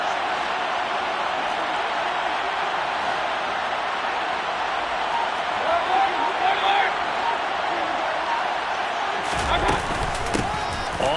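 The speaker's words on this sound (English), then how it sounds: "the crowd getting into it as we come up on a big third down" A football stadium crowd roars in a sustained, loud wash of noise ahead of a third down, ending with a few sharp thumps and knocks close by.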